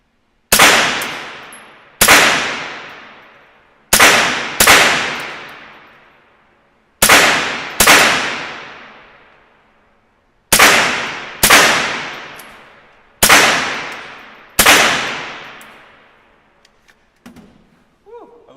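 Nine gunshots fired at a shooting range, each a sharp loud crack with a long decaying ring, spaced unevenly about one to three seconds apart, followed by faint clatter at the end.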